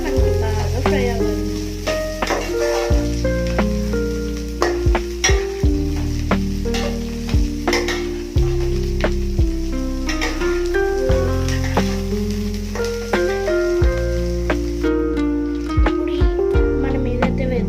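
Mixed vegetables for paneer fried rice frying in a hot pan, with a steady loud sizzle and repeated scraping and clinking of a spatula as they are stirred, close up.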